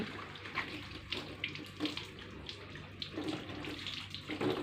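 Steady running water from a hose or tap during car washing, a constant splashing hiss with small spatters and gurgles throughout.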